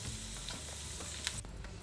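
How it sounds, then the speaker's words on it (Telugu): Coriander, mint and curry leaves fry in hot oil in a pan for a chutney, a steady close sizzle with a few stirring scrapes and clicks. "ఇది బాగా ఫ్రై అవుతుంది అనమాట"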